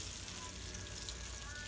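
Country-fried steaks sizzle steadily in a frying pan while being flipped, a continuous close, fairly quiet crackle and hiss with no voice over it.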